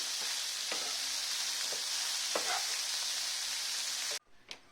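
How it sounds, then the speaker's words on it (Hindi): Sprouts roasting in a pan over a medium flame give a steady broadband sizzle with a few faint stir clicks, close and continuous, then cutting off abruptly near the end. "अब मैं इसको 4 से 5 मिनट तक थोड़ा सा मीडियम फ्लेम पे भून लूंगी।"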